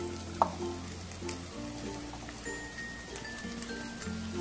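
Sliced capsicum and cabbage for veg momos fry in a pan with a faint, steady sizzle. A clink from the pan is heard near the start.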